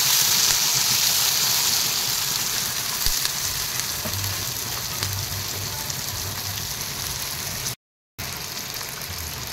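Sliced onions and four green chilies frying in oil, a faint, steady crackling sizzle that runs throughout with one brief dropout.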